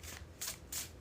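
A deck of oracle cards is shuffled in two quick riffling bursts, close and fairly quiet, with no voices.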